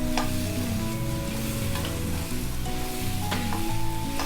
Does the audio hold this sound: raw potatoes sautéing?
yes